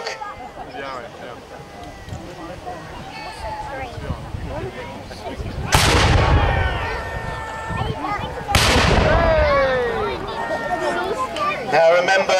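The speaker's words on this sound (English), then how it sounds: "these cannons have been roaring for a whole day and a half now" Siege cannons fire two heavy, booming blasts a few seconds apart, each crack rolling out into a long rumble over a steady bed of background noise and voices.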